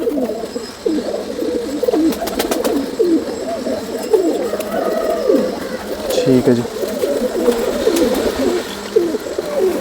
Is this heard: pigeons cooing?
yes